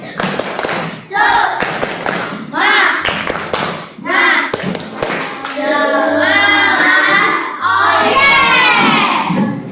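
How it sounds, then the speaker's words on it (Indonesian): A classroom of children performs a rhythmic spirit clap led by their teacher, patterned bursts of clapping and taps mixed with chanting young voices and a teacher speaking. "Tepuk semangat."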